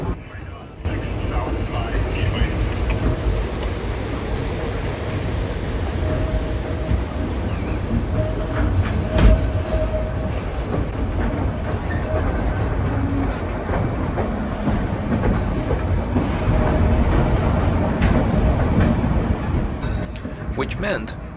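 White Pass Railroad carriage rolling on mountain rails near Skagway, Alaska, a steady, close rumble of wheels with faint clicks and rattles running continuously throughout.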